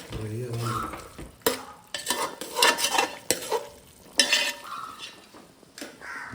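Food frying and being stirred in a pan at home, with steady sizzling under repeated scraping and clinking strokes of a spoon against the pan.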